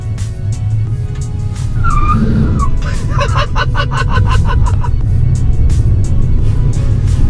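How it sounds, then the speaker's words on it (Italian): Front tires of a Fiat 500 spin and squeal under a revving front-wheel-drive engine with traction controls switched off, a loud wavering screech rising over steady engine roar and lasting several seconds. "La trazione è sempre anteriore, quindi sono le gomme anteriori che pattinano."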